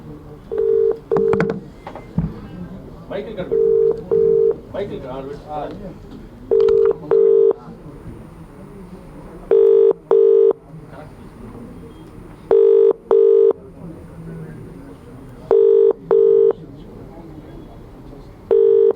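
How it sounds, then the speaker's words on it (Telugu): Phone number being dialed on a telephone, a series of short paired DTMF beeps in clustered bursts, loud and close, with someone talking between and around the tones. "వాళ్ళందరూ వాడికి ఫోన్ చేస్తా."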